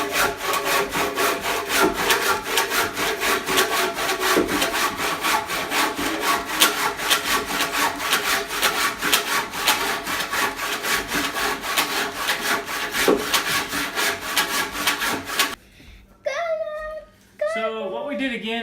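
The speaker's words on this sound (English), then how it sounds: "Now what I'm doing is cutting the two tips off so I have the exact length of the canoe." A handsaw cuts the tips off a hand-carved wooden coastal canoe in a steady, loud rhythm of rasping back-and-forth strokes, close up. Near the end the sawing stops and a voice is heard.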